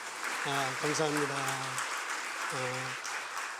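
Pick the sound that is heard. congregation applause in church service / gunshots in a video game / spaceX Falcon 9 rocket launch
congregation applause in church service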